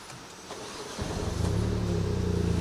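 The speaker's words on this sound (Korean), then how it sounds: "시동을 걸어보면" A New Mini Cooper Countryman's engine cranks and catches after a quiet cabin moment, then settles into a steady, close idle hum that grows louder and holds.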